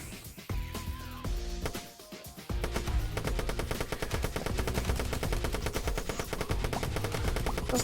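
Rapid bursts of machine-gun fire from the yellow machine gun in the video game Monster Blast, a dense stream of loud, clipped shots running nearly continuously over game music and effects.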